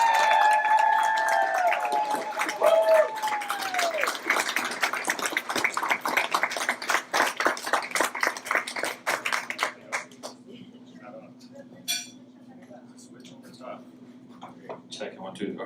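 An audience claps in a dense burst of applause that thins out and fades to scattered claps, with a voice speaking at the start.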